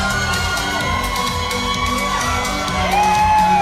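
A wrestling show crowd cheering, whooping and shouting continuously at a live event, loud and steady with individual yells rising out of the roar.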